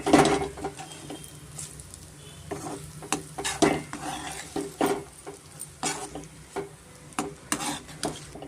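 Vermicelli upma with coriander and lemon juice being mixed in a pot, giving a run of scraping, clinking spoon strokes against metal at an irregular rhythm, close and moderately loud with no talking.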